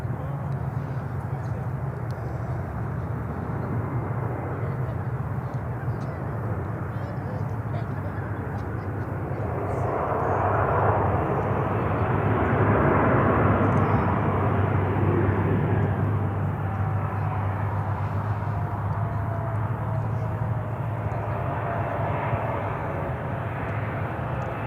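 An Air Canada Express airliner arrives from Toronto at Charlotte airport, its engine roar building steadily to a loud peak midway and then easing off, with a low steady drone underneath throughout.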